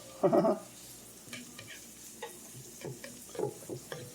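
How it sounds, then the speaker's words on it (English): Minced garlic hitting a hot stovetop pan of Brussels sprouts and bacon, with a loud burst of sizzling and stirring at first, then softer intermittent scrapes and crackles close by. "So now I put the garlic in."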